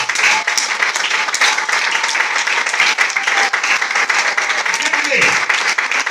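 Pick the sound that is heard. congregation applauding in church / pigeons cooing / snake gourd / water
congregation applauding in church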